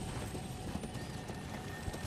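A horse gallops in the Elden Ring video game, its hooves beating out a quick, continuous clip-clop over dense, noisy game ambience for a couple of seconds.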